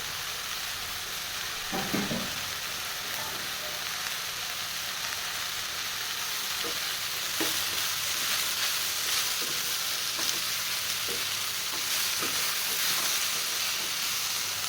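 Ingredients for sambar fry in a pan with a continuous, dense sizzle and hiss, while scattered soft scrapes and taps from stirring recur throughout.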